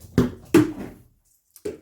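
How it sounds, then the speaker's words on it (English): A cat chases and bats a plastic ball across a hard floor indoors, giving a few sharp, separate bounces with short pauses between them. "My cat is currently chasing his favorite plastic ball."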